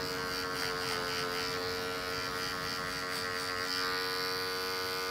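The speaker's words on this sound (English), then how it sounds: "I'm also gonna start using the corners of my clipper blades too" Electric hair clippers run during a short men's bald fade haircut, giving a steady, close, humming buzz with a bright whine above it, holding even throughout.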